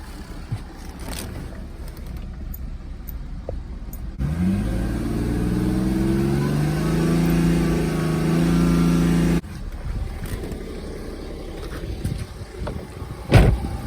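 A BMW 330D with the N57 diesel engine, warmed up after idling, is revved and held at raised engine speed for several seconds, then drops back to idle, heard close by outdoors.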